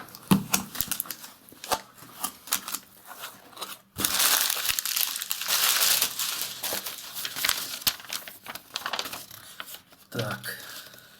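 A shipping box holding a Darrel Ralph AXD knife is opened, with sharp bursts of crinkling paper and rustling packing, then a long stretch of dense crumpling before a few quieter handling sounds.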